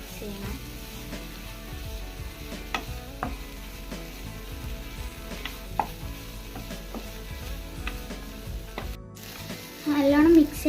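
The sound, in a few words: stirring chicken pasta sauce in a sizzling pan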